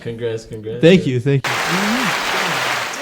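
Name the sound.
crowd applauding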